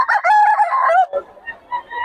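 A rooster crows once, loud and close, in a drawn-out cock-a-doodle-doo lasting about a second at a Philippine market selling fowl, followed by softer clucks and faint background noise.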